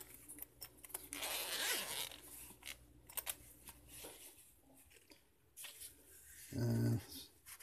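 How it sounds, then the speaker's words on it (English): A nylon knife case is unzipped close up, giving a raspy zipper pull, then clicks, light handling rustles and another short sharp zip toward the end, with no talking. "Came with a super nice nylon zip case."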